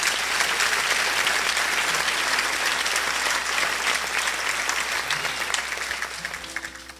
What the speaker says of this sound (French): avec de gros applaudissements, on veut le remercier encore